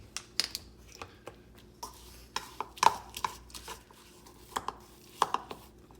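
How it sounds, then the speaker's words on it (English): Butter gets mashed into an apple crumble topping in a bowl, a series of sharp, irregular taps and knocks of a utensil against the bowl, close and fairly quiet with gaps between. "I'm just going to start to kind of mash the butter into the mixture"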